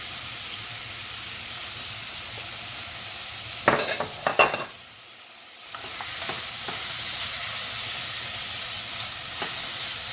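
Onions sauté in olive oil in a pan for a New York style pizza recipe, with a constant soft sizzle broken midway by a few sharp clanks of a utensil against the pan before the frying hiss returns.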